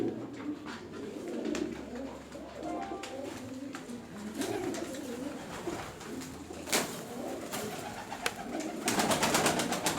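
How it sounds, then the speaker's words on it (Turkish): Pigeons cooing amid the fluttering and shuffling of a loft full of pigeons at a Turkish pigeon seller's, with steady low cooing throughout and sharper wing claps near the end. "Gayet güzel kuşlar."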